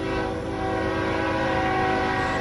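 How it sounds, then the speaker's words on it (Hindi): A train roars and blares its horn, a loud, steady drone that swells slightly as it nears, with no voices. "ट्रेन की आवाज भी अब तेज हो"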